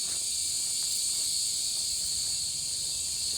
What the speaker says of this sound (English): You can hear those cicadas roaring.